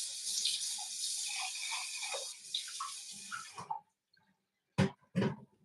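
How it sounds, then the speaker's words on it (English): Tap water runs steadily into a measuring cup being rinsed in a sink, a loud continuous splashing stream that stops abruptly, followed by two short bursts of cup handling. "I always rinse my measuring cup with milk with cold water."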